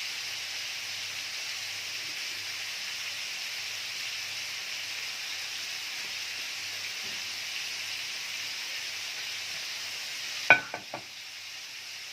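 Slices of beef piccata sizzle steadily in a pan with a constant, even hiss, then near the end a few sharp utensil clatters cut in as the meat is turned or lifted.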